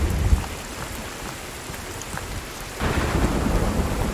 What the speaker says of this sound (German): Alter, was ein Unwetter.